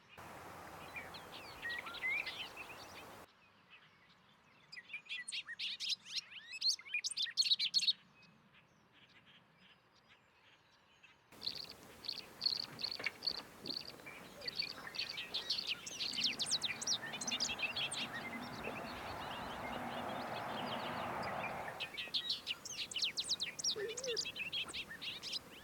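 Bobolinks sing bubbling, tumbling songs over open fields in Maine, bursts of chirping at moderate distance coming and going among breezy field noise.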